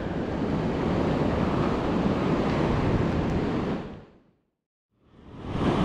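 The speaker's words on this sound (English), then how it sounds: "Because there's quite a bit of water in this gully up ahead here." Water surging through a gully in a coastal cave, a loud continuous roar of rushing surf that cuts off abruptly into silence near the end and then swells back in.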